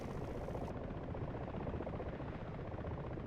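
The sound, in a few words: helicopter nearby in DCS flight simulator video game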